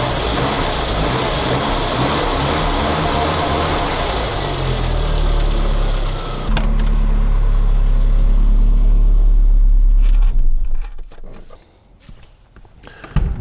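A 1992 Saab 900 Turbo engine idles nearby with a steady, loud hum. Partway through it swells into a deeper rumble, then drops away to quiet clatter and footsteps.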